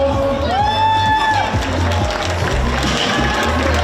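A crowd at a regional Miss Italia pageant final claps and cheers steadily and loudly, with a voice and a few sustained musical tones mixed into the applause.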